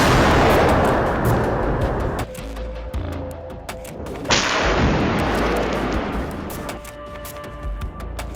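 Repeated blasts from bomb attacks on Indian air force stations, heard as a series of loud, sharp booms and crashes with rumbling decay, spread across the clip with no talk.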